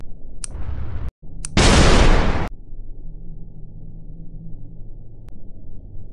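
Ship's guns firing on an enemy ship, a short sharp report, then a heavy roaring blast about a second long, loud and close, followed by a low rumbling hum.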